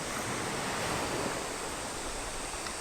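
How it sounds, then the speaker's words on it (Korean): Strong sea waves break at high tide on Hanagae Beach on Muuido, a steady, loud, close wash of surf roaring without pause and mixed with wind noise. "파도가 세네."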